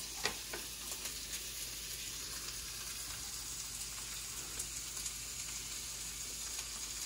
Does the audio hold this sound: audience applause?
no